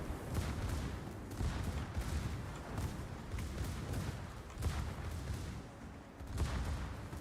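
Naval gunfire in World of Warships, with repeated dense bursts of ship cannon and artillery rolling in a steady barrage of booms at moderate distance, with no voices.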